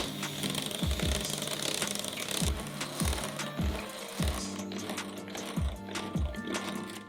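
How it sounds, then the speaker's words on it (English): An electric mixer works melted chocolate into cheesecake batter for mini baked chocolate cheesecakes, with a steady whirring hum and a run of low bumping knocks as the beaters hit the bowl, close and fairly loud, no talk. "Now I'm going to add the melted chocolate and I'm going to mix everything well"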